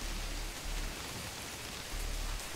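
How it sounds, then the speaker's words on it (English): Heavy daytime rain pours down in the woods, a loud, steady broadband wash of drops with no pauses, filling the whole stretch alone without any voices. "Now, I wish it would stop raining."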